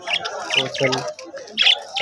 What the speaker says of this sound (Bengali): কিচির মিচির করে ডাকাডাকি করতেছে